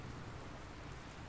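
Steady rainfall in the video game Dragon Quest Builders 2, a soft, even hiss of drops that stays faint and constant throughout with no voices over it.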